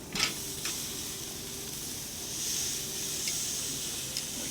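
Steak sizzling over direct charcoal heat on a Green Egg grill: a steady, close hiss with a few brief sharper crackles and a gentle swell midway.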